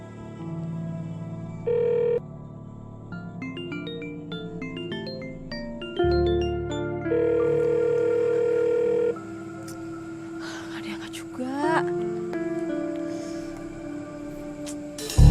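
A telephone being dialed, with a run of keypad tones followed by steady dial and ringing tones, indoors with faint background sound and no talking.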